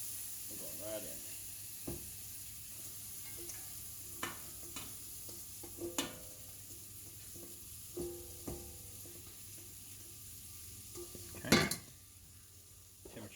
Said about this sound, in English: We're sweating veggies. You can see that I'm just mixing all that flour in here.